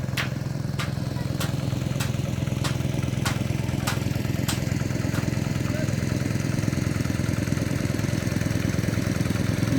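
A tractor ploughs hard soil in a rice field, its engine giving a steady, close, droning rumble, with a series of sharp regular clicks ticking over it in the first few seconds.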